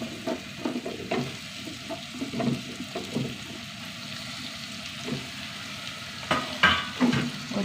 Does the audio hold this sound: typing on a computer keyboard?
no